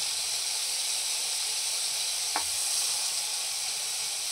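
Butter sizzles in hot oil in a pan for pav bhaji, giving a steady, close, loud hiss throughout with one brief sharp crackle partway through.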